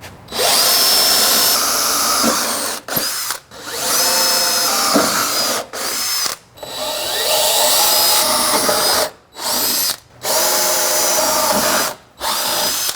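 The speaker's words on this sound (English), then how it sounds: "Now that all the holes have been center punched, I'm going to start with a smaller drill bit." A power drill with a smaller bit bores holes into a Jeep EVO MFG armor bracket, loud whining bursts of drilling broken by several short pauses.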